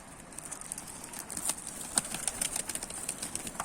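A pigeon flaps its wings close by. It makes a series of soft, irregular fluttering bursts and brief wing claps over a few seconds, with a quiet background and no voices.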